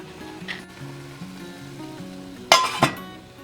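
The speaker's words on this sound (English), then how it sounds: "It's just about ready to put the lid on it and take it off the heat." A lid is set onto a pot of steaming broccoli on the stove, landing as two quick metallic clanks near the end over a low, steady kitchen hum.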